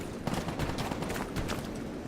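Dense, rapid gunfire in the video game Stalker GAMMA crackles continuously, a sustained burst of shots at steady loudness with no pauses, like a firefight in progress.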